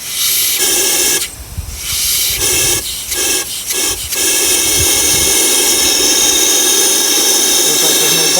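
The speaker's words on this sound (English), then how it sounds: "Alright, so I'm blowing air through it." Air blown through the heater core of a 1967 Plymouth Valiant, a loud, steady rushing hiss broken by several brief gaps where the airflow stops and restarts.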